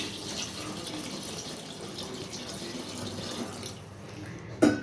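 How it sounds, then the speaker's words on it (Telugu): Four glasses of water poured into a pot for meal maker pulao, a steady close splashing flow of liquid that continues throughout, ending with a short knock of a vessel. "4 గ్లాసుల వాటర్ అయితే పోస్తున్నాను."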